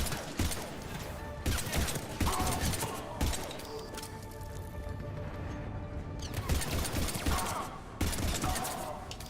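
Rapid bursts of gunfire from a heavy pistol and other weapons in Mass Effect 3, cracking in dense volleys with crashes and mechanical clatter and no pauses, loud throughout.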